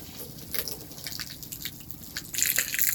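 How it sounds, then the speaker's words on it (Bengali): Water spraying onto concrete columns and stairs at a building construction site in Chattogram on a foggy winter morning, heard as scattered splashes and drips that swell into a steady, louder spray near the end. "কলাম এবং সিঁড়িতে পানি দেওয়া হচ্ছে"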